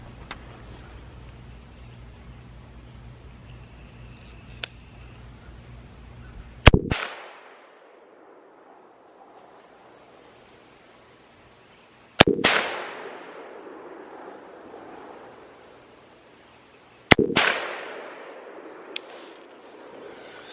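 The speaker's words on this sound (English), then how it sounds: "let's take another 2 shots, maybe 2 or 3 shots" Three loud, sharp rifle shots from a 7.62x39 CMMG Banshee fired outdoors while sighting in iron sights, each spaced several seconds apart and followed by a ringing echo, with quiet ambience between.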